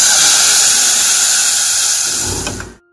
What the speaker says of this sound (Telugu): సో కొంచెం గీలోని ఆవాలు, జీలకర్ర, మెంతులు, ఎండుమిరపకాయలు, వెల్లుల్లిపాయలతో పాటు ఇంగువ యాడ్ చేసుకోవాలి.